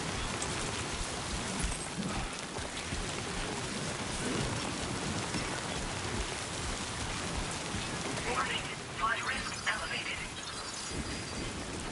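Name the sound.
rain falling in video game Death Stranding 2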